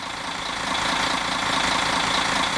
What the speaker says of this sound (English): That's a noisy engine.